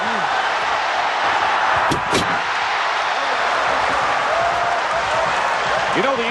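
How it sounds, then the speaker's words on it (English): A loud arena crowd at a 1986 Bulls versus Knicks basketball game roars steadily for Michael Jordan, a dense continuous wall of yelling with a brief sharp clatter near the middle and a voice talking over it. "the crowd is yelling as loud for Michael Jordan when he does something like that"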